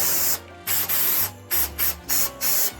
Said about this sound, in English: then you're going to spray on top